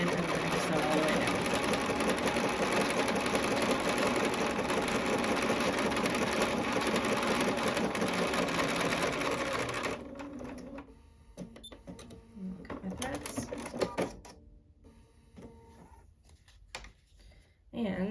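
Sewing machine running steadily while stitching a foundation paper pieced quilt block along a dotted line, a continuous close mechanical whir for about ten seconds, then stopping, followed by quieter handling sounds.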